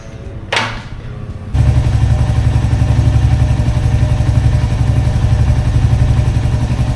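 A classic motorcycle on a group charity ride through Pune starts up and pulls onto the road, a loud close steady engine rumble with constant low throb and wind buffeting, preceded by a short whoosh and a quieter idle.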